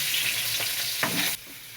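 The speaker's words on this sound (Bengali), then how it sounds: "আলুটাকে হালকা করে ভেজে নেব।" Potatoes frying in a wok for a Bengali fish curry give a steady, close, bright sizzle with a few stirring scrapes. The sizzle drops suddenly near the end to a quieter hiss. No one speaks.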